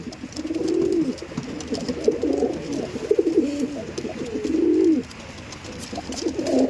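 Domestic fancy pigeons coo in repeated low, rolling phrases, close by and fairly loud, with overlapping calls and a little background noise.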